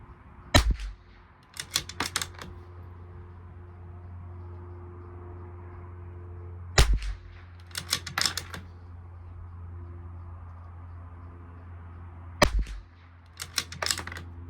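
Rifle shots from a Bergara B14R Club Master during an ammunition test ring out in three spaced groups, each a sharp report followed by a quick cluster of smaller clicks and impacts, over a steady low background hum with no talking.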